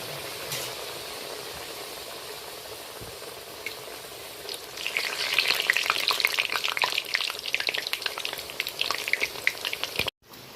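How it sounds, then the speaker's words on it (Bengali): Pumpkin leaf pakoras stuffed with banana flower fry in hot oil, a steady crackling sizzle that swells louder partway through as more pieces go in, with no talk. "এবার আমি ছেড়ে দিচ্ছি তেলের মধ্যে। এইভাবে দুটো দুটো করে সবগুলো ভেজে নেব।"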